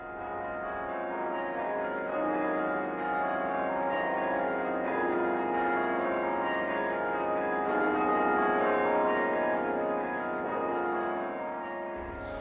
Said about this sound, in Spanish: Tiene 2 conjuntos de campanas y un carrillón de 53 campanas tocado por un carrillonero.